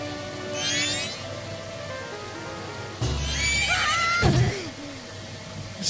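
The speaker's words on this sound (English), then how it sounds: "Spooked my horse." A horse neighs in Majora's Mask, a loud whinny rising over game music and ambience, followed by snorting and a second whinny near the end.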